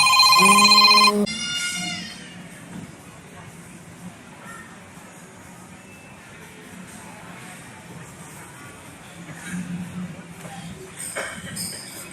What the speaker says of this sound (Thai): ผมขอรับโทรศัพท์แป๊บนึงครับ